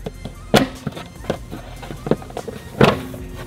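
A Tesla Model 3 aero wheel cap tugged off the wheel, a series of sharp plastic clicks and thumps with two louder pops as the clips release, close and dry.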